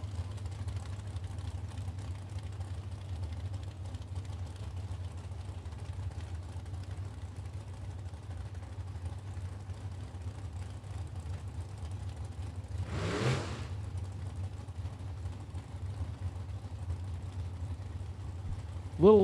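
Drag race cars, a Ford Mustang and an S10, sit on the starting line at the Mid-Michigan Motorplex during a Super Pro event, giving a steady low engine rumble throughout with one brief louder rev burst near the end.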